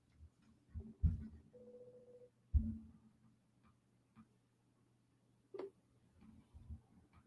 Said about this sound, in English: I'm calling her on Instagram.